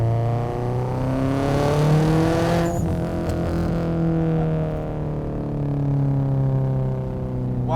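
A 440 HP Subaru STI with front-mount intercooler, HKS blow-off valve and methanol injection revs hard while accelerating, its engine note climbing loudly and steadily toward a 7,000 RPM redline.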